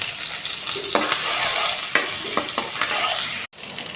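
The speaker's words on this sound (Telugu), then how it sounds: "ఆవాలు, జీలకర్ర, కరివేపాకు, అల్లం వెల్లుల్లి పేస్ట్ వేసుకోవాలి ఫ్రెండ్స్" Mustard seeds, cumin, curry leaves and ginger-garlic paste sizzle in hot oil, a steady bright crackle broken by a few sharp scraping stirs and one brief dropout near the end, with no voices.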